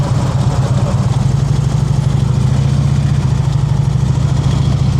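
A motorcycle engine idles close by, a steady low rumbling throb that holds even and loud throughout.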